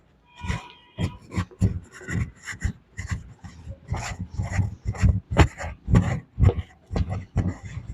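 Something is rubbed by hand during a chemistry lesson on aliphatic amines, producing a close series of scratchy, rasping strokes at a brisk, roughly regular rhythm of about two per second, with no talking.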